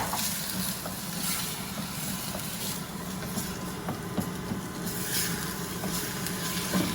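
Small tomatoes dropped into a hot pan with onions, garlic and butter, a steady close sizzle and crackle with occasional stirring scrapes and pops, no talking.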